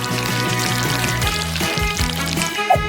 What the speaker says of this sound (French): j'arrose le tout de sirop de fraise